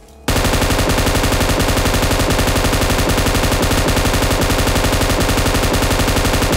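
Sustained automatic gunfire from an RB in a Fortnite Chapter 1 Season 1 solo-versus-squad match, a loud, dense, rapid stream of shots that keeps going without pause for several seconds.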